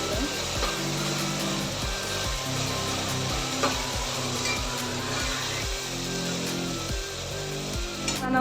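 Onion frying with salt in a pan for Maharashtrian misal, a loud steady sizzle under repeated rhythmic scraping strokes of a spoon, close up, with a low mechanical hum running throughout and no talk.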